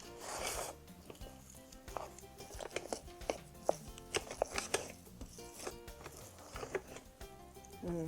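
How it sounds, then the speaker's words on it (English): Polenta ingredients are stirred together in a rice cooker pot. A spoon makes irregular soft clicks and knocks against the inner pot, with background music playing underneath. "now you want to stir all the ingredients together"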